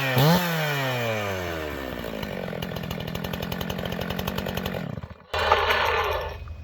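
A restored Husqvarna 51 chainsaw starts on one pull and revs up, then settles into a rattling idle. The engine cuts out briefly, then roars back, loud and close.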